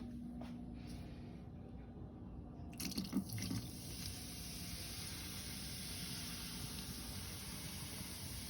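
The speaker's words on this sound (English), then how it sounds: "And so I'm gonna pour this vinegar over it." Vinegar is poured over dyed Easter eggs in a volcano-style experiment, giving a steady splashing, hissing stream of liquid that starts partway through and carries on at an even level.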